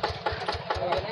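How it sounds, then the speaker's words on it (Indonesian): A Yanmar TF85 tractor engine idles nearby with a steady low chugging and regular pulsing beats, its rhythm repeating about every quarter second. "Ya, mesin tampak berjalan alon-alon saja Kang Imat ya"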